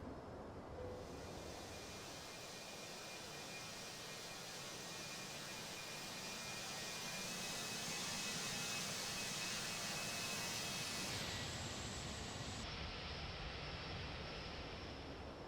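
Airbus A321 jet engines roar steadily through a ToLiss flight simulator takeoff, a broad constant rush that swells slightly midway before easing, with no voices.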